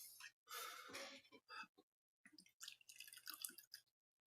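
Old Pulteney whisky being poured from a bottle into a glass, a close, quiet liquid trickle in two short bursts separated by a brief pause.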